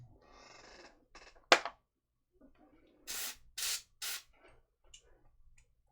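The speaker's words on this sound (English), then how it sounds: "So I'm loading, aiming, spraying." An airbrush sprays sepia paint to speckle a miniature model, with three short close hissing bursts after soft rubbing and a sharp tap, in otherwise quiet surroundings.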